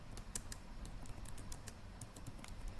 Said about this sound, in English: So I'll just type in, can you give me some more